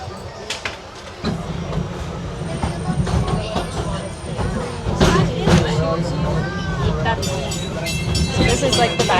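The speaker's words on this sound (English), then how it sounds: "we definitely have a full train right now" A safari train at Disney's Animal Kingdom rumbles along the rails with clattering wheels and occasional metallic squeals, while people chatter around it in a full, busy carriage.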